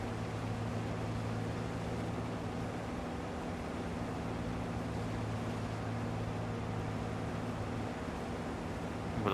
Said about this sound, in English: I'll just take it up in the combine